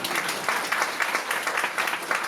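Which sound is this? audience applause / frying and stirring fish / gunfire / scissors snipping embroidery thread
audience applause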